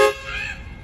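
Train horn blast, loud and close at the start with stacked tones, then decaying into a lingering ring and low background rumble over under a second.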